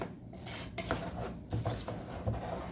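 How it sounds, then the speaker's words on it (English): A spoon scrapes and stirs Rice Krispies cereal in a pot for snowman treats, making repeated close scraping, clinking strokes against the metal with a crackly texture, steady and moderately loud, with no talking. "I'm gonna stir these and get them all mixed together thoroughly"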